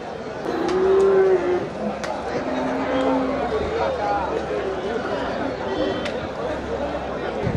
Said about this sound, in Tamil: இல்லை ஜாதி மாடு தான். ஜெர்சி மாடு.